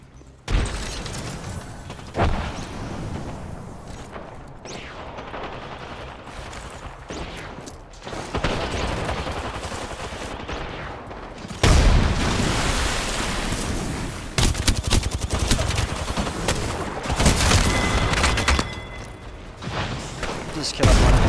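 A frag grenade explosion and gunfire in Apex Legends: several heavy booming blasts and rattling bursts rise out of a noisy game mix, with players talking between them.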